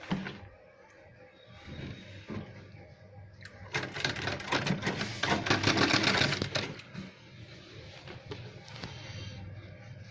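A sewing machine stitches a half-inch seam on a gents' shirt, a steady mechanical run that swells louder in the middle stretch, with a voice speaking faintly beneath at times.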